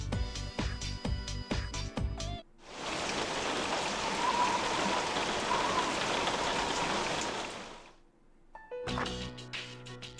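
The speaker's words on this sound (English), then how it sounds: "You are drenched from the rain." Heavy typhoon rain pours in the video game Persona 3, a dense steady roar lasting several seconds between stretches of game music, with no talking.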